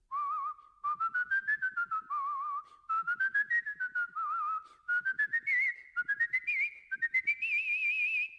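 A master whistler's warm-up: clear, agile human whistling in short gliding phrases and rapid trills that rise and fall in pitch, close and solo with brief pauses between runs.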